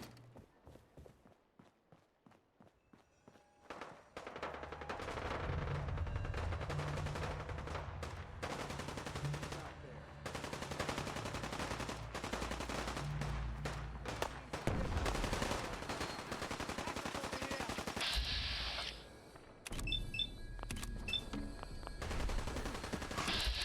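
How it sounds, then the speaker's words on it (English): Gunfire in the post-apocalyptic video game Fallout 4: dense, sustained bursts of rapid automatic shots and scattered single cracks, loud and close, with brief footstep-like movement in between. "It's a lot of gunfire."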